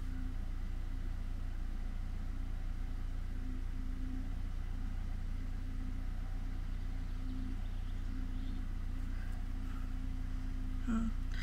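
A 2000 VW Passat B5 sedan with a 1.6 MPI petrol engine idles steadily with a low, even rumble and hum that stays constant throughout, heard from close by.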